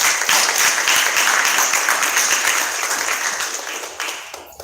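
Sustained applause from an audience at a Harlem arts town hall, dense clapping throughout that gradually thins toward the end.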